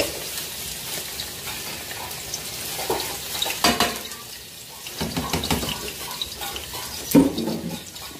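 Onions hit a hot pan for galunggong fish adobo, sizzling steadily with scraping stirs and a few louder splashes and clatters along the way.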